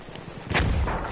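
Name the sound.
mortar fire in video game Battlefield 1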